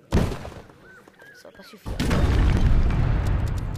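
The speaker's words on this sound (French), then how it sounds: "Oh, c'est un canon." Cannon fire booms in the strategy game Age of Empires, a sharp thud at the start and a heavier blast later that rumbles on, with someone speaking over it.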